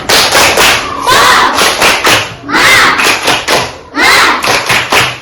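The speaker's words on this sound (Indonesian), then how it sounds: "Ayo kita tepuk semangat dulu ya." Children in a classroom doing a rhythmic spirit clap, bursts of sharp, loud, close hand claps in quick patterned groups separated by short pauses, with young voices chanting along.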